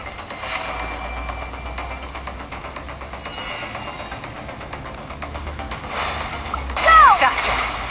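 A Hydro water jet attack in the Genshin Impact Skirk quest makes splashy, rushing water effects over an engine-like game rumble, with a sharper, louder surge near the end.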